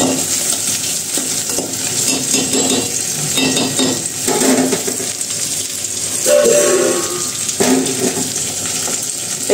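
Vegetables for khichuri fry in a pan in a home kitchen, a close steady sizzle broken by repeated scraping stirs, with water sounds mixed in and no talk.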